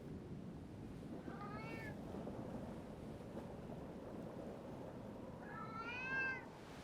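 A cat in the video game Foolish Mortals meows twice, a short call early and a longer one near the end, over a steady bed of wind and surf-like ambience.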